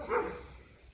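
A neighbor's dog in a Netherlands backyard garden gives a single short bark, moderately loud and somewhat distant, fading quickly into quiet outdoor ambience.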